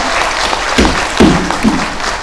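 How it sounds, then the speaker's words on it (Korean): Brief burst of audience applause at a Korean-language public briefing on compensation claims for Pacific War victims, moderate and close, rising in a few swells over steady room noise. "박수 한번 주세요"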